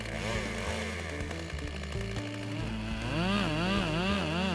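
A chainsaw engine idles and then revs up with wavering pitch, loud and close, continuous throughout.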